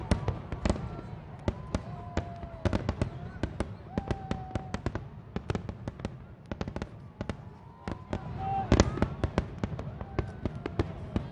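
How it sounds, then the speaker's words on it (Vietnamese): New Year fireworks burst over Hanoi in a dense, continuous barrage of sharp cracks and booms, some near and loud, others distant, with crowd noise underneath. "những bắn pháo hoa đã tung bay trên bầu trời Hà Nội"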